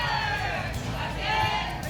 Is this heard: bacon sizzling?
no